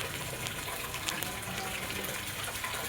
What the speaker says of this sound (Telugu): ఫస్ట్ అయితే వాటర్ అయితే నింపుదాం.